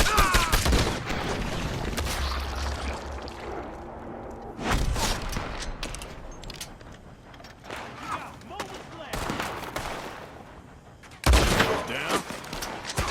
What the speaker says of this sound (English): He's going for the Gatling! Look at... Oh, he's firing!